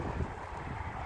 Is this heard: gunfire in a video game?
no